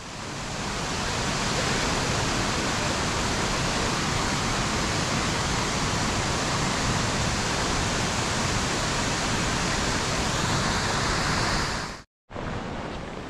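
A waterfall at Yellowstone rushes in a loud, steady broadband roar with no gaps, heard close and continuous for over ten seconds before cutting off abruptly and briefly returning.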